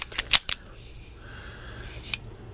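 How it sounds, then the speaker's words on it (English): Magazine inserted into a Keltec P32 pistol: a few quick, sharp metallic clicks and snaps close by in the first half second, then quiet room hiss with a faint later click. "So you put your magazine in the gun."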